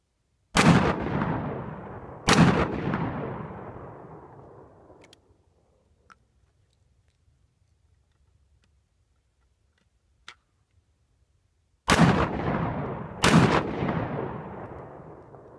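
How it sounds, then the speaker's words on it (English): Gunshots fired at bottles outdoors in hot weather: two loud booming shots that ring out and decay, a long quiet stretch with faint clicks, then two more loud shots. "Shooting some bottles right now."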